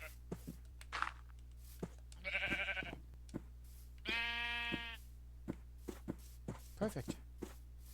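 Blocky Minecraft sheep bleat twice in short wavering cries, close and clear, between soft footstep clicks in the video game.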